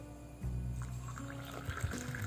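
Hot water is poured onto two teaspoons of tea powder for a decoction, a soft steady trickling pour close by, faint and continuous over a couple of seconds.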